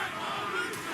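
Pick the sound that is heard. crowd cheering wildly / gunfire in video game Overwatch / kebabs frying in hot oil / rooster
crowd cheering wildly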